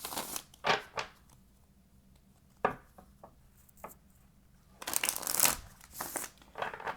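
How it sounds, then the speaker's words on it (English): Tarot cards riffle and slap in short bursts, soft and close, with scattered taps in between and a longer brisk shuffle near the end. "We're going to have one more shuffle."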